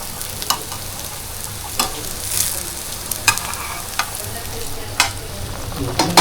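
Food fries in a pan with a continuous close sizzle, broken by scattered pops and the clicks of stirring throughout.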